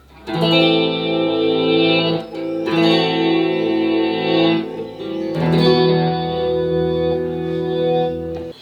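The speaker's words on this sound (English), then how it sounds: "I used reverse delay." Guitar chords swelling in with a reverse delay effect, notes rising and fading in long washes, loud and close with no voices.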